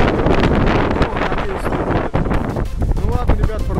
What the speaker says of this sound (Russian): Дождь, ветер очень сильный.